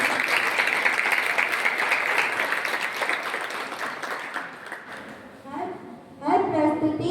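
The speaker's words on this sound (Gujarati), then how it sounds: "ફરીથી એકવાર જોરદાર તાળીઓ થઈ જાય એનસીસી કેડેટ્સ માટે." Loud, sustained applause from a crowd saluting NCC cadets at a Republic Day celebration at GMC, steady and dense for several seconds before fading, then a voice comes in over the tail.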